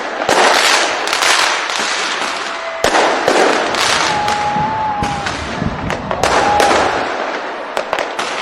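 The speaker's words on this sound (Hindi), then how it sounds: "नए साल के स्वागत में भव्य आतिशबाजी हुई है।" New Year fireworks over Auckland: a loud, continuous barrage of crackling bursts and sharp bangs, with a few rising whistles streaking through the dense noise.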